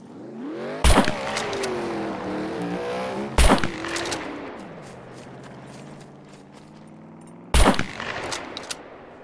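A vehicle in the survival game SCUM rumbles past, its engine tone rising and falling, punctuated by three loud sharp gunshot-like bursts spaced across the stretch.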